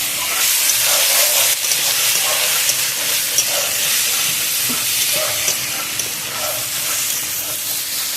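Chopped tomatoes sizzle loudly in a pan for posto chicken, a dense, continuous hiss broken by scattered stirring scrapes and pops.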